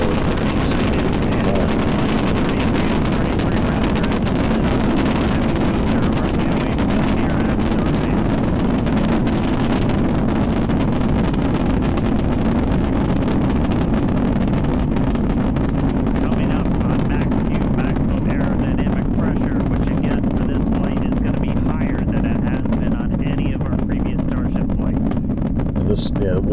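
Rocket booster engines firing in flight through max Q as heard on a launch broadcast, a continuous loud roaring rumble with wind-like noise that thins slightly toward the end, while people talk over it.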